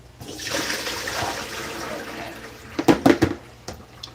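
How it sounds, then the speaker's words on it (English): Tap water runs and splashes as salad greens are rinsed through a strainer, a steady wash that swells into a few louder bursts of splashing near the end. "I need to throw it through the strainer now. So I had to put you guys over there. Let me just rinse it off."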